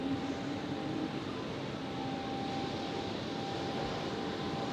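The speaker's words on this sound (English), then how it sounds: "American Airlines has takeoff clearance, so let's take a look, shall we?" An American Airlines airliner taking off at foggy Zurich Airport, heard as a steady, distant broadband jet engine roar with a faint tonal whine, continuous and even.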